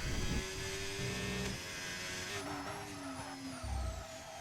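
Race car in a sim racing game at Bahrain braking hard, engine note dropping and whining as tyres lock up, with brief rumbling bursts from kerbs, fairly quiet throughout.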